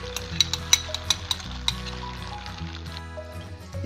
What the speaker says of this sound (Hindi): अब पैन में थोड़ा सा ऑयल गरम करके अंडे फेंट कर इसमें डाल दें।